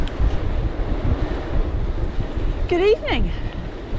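Cold night wind, about 4 degrees, on a winter gravel bike ride through the New Forest: a continuous low buffeting rumble across the microphone, with a brief spoken greeting over it.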